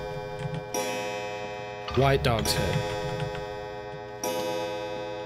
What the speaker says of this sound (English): Clock pendulum.